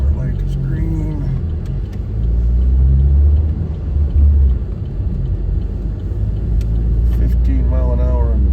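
A car rolls slowly through a busy parking lot, its steady low engine rumble and road noise filling the cabin throughout while a driver talks over it.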